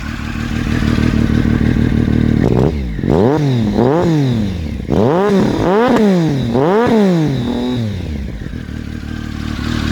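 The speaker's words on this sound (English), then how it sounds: "Here's how the motor sounds." A 2002 Triumph Speed Triple 955i with an MHP exhaust runs nearby, idling loud before a series of sharp revs that rise and fall in repeated swells, then settling back to a rough, steady idle.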